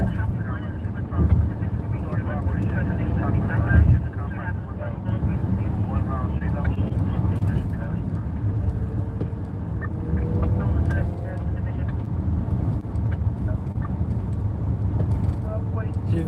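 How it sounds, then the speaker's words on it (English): A motorcycle rides along a highway with its exhaust fallen off, giving a loud, continuous low engine roar mixed with traffic and wind noise, steady throughout with a brief louder surge near the start. "His entire exhaust just fell off his motorcycle."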